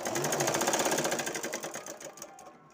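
A sewing machine stitches the waist belt at the back of a garment with a fast, steady needle rattle that slows and fades out over about two seconds, close and with no talking.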